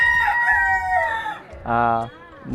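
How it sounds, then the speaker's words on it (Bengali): Kadaknath chickens on a farm: a rooster crows loudly in a couple of drawn-out, harmonic calls, close by, with softer clucking around it. "আসলে কথা বললে মুরগি ডাকাডাকি করে"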